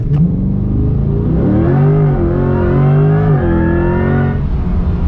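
A Chevrolet Corvette E-Ray launches from a standstill and accelerates hard uphill, its engine note rising steadily in loud, close, continuous revs before easing off near the end, with no talking.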